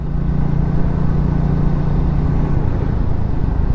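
A Triumph Speed 400 motorcycle cruises in 4th gear at about 30 mph. Its engine drones loud and steady with a low hum, mixed with constant wind and road rush and no talking.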